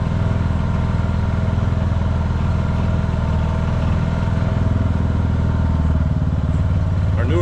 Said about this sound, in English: Surprised this Gator's doing so well.